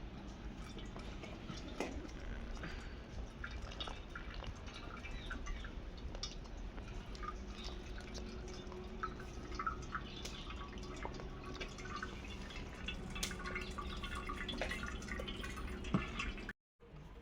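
Water draining from lightly boiled rice set in a strainer for chicken biryani, a steady close patter of drips and trickling liquid, faint and continuous, with no voices.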